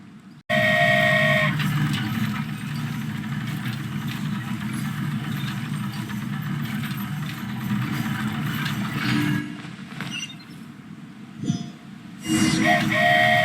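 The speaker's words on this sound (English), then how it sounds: "Choo-choo! Aerial Express moving out." The Aerial Express, a flying train in a game cutscene, pulls away with a steady low engine rumble and rolling hum that holds for about nine seconds, then thins out and swells again near the end.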